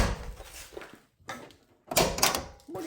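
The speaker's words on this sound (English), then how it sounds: "And that door sounds way more solid." A Ford Bronco with a Coyote engine swap has its door swung shut several times, each a solid close-range thunk separated by short pauses, with the loudest slam near the end.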